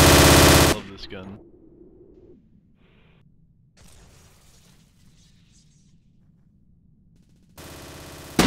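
A gun in a video game raid fires a loud opening burst, then quiet rustles and faint distant shots follow before another loud burst of gunfire at the end, with no talk.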